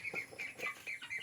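Native chickens cluck in short, repeated calls at a lively pace, close by and fairly clear, with no talking.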